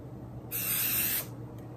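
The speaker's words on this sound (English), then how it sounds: "So you add some to your curls so that they don't move." A single hiss of Aussie hairspray sprayed onto curls, about seven-tenths of a second long, close and fairly loud, over a quiet background with a faint steady hum.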